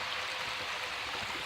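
Creek water rushing steadily in a wooded hiking spot, a dense continuous broadband wash, close and fairly loud with no voices.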